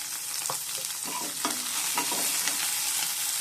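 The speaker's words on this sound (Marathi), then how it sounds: "कांदा छान भाजत आला की याच्यामध्ये आपण घालणार आहे एक बारीक कट केलेला टोमॅटो" Onion frying with finely chopped tomato in a pan, a loud steady sizzle overlaid by several spatula scrapes and stirs, close-up and without speech.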